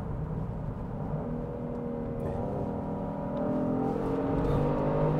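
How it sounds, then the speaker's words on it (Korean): Genesis GV70 facelift SUV engine revving up past 5000 rpm on a downshift while slowing, a steady cabin hum rising into a louder whirring rev near the end, no talk. "바로 다운시프트해서 5000 넘길 때까지 엔진을 돌려주게 되는 거죠"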